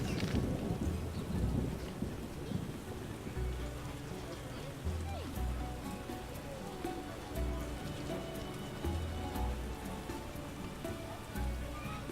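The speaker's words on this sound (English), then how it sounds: "Must it rain right now?" Rain and rumbling thunder in The Witcher Enhanced Edition video game, a steady downpour with low thunder rolls and wind under game music and effects, while voices talk at times.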